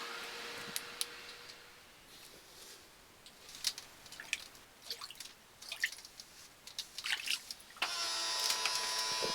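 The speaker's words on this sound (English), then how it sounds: "I'm draining the water in the engine compartment" Water drains from a boat's engine compartment, irregular drips and small splashes falling one after another, fairly quiet, ending with a steadier rushing flow near the close.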